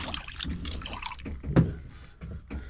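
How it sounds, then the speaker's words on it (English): Fresh water from a foot-pumped sink in a cab-over truck camper, splashing and dripping in irregular spurts with a soft thump partway through as the pump is pressed. "to get fresh water, you just step on the foot pump"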